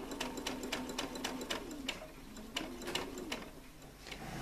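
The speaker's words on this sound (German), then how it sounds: "Schaltet erstmal um auf einen normalen Geradstich. So, und jetzt vorsichtig drumherum nähen." A sewing machine runs a straight stitch around fabric pieces for a dragon-in-an-egg soft toy, a steady rapid mechanical ticking and whirring close up, with no talking.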